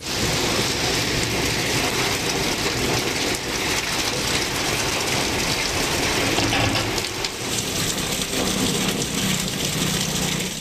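Heavy rain pouring steadily in the Sivaganga area of Tamil Nadu, a dense, loud, unbroken hiss of downpour with no talking.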